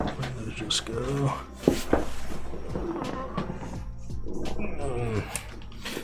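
A person building a Mercutio 40% mechanical keyboard lets out an effortful grunting noise, close and loud, mixed in with ongoing talk and small handling clicks.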